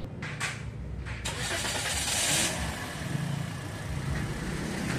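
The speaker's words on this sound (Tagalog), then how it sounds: "Ilagay ko muna itong engine cover niya tapos pa-start ko na itong makina." A Toyota Vios engine cranks and catches, settling into a steady, close idle with a brief rise in revs after starting.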